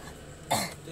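A child gives one short cough and throat clear, a brief raspy burst in the middle of an otherwise quiet stretch.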